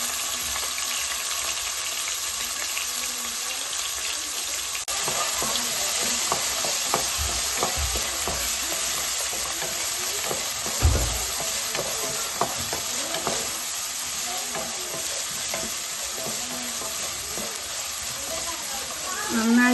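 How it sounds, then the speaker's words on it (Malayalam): Ginger, garlic and green chilli sauté in an oiled pan for lemon pickle, giving a steady close sizzle broken by repeated stirring scrapes throughout. "വെളുത്തുള്ളി, പച്ചമുളക്, ഇഞ്ചി നല്ലോണം വഴന്ന് വന്നിട്ടുണ്ട്."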